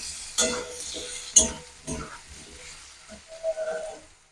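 Crushed garlic frying in a pan with vegetables for a fish-head, taro and Malabar spinach dish, a soft sizzle broken by intermittent scraping stirs and utensil knocks, close and fairly quiet.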